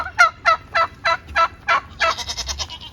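Turkeys on a Texas ranch gobble in a series of about eight rapid, rattling calls, close and loud, spaced evenly before overlapping into a denser burst of gobbles at the end.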